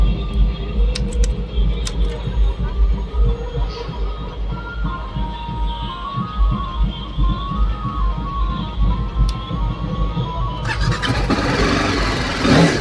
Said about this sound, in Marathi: तर गाईस स्टार्ट झालेली आहे BMW